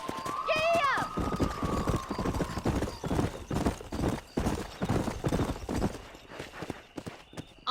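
Horse galloping in the Western video game Red Dead Redemption, a whinny at the start then rapid rhythmic hoofbeats pounding close and loud, with a voice speaking over the ride.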